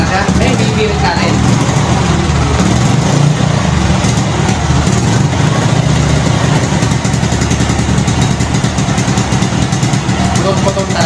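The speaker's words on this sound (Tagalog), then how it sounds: "Lagyan natin ng konting gas sa no revolution. Ayan. Okay. Ayan. Andar na siya. Bibirit natin." A small engine, likely a motorcycle, running after fuel is added to the carburetor, a loud close steady idle with throttle revs throughout while someone talks over it.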